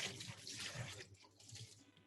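Water runs softly from a tap over a knife being rinsed at a cooking event, a brief faint splashing wash lasting a couple of seconds.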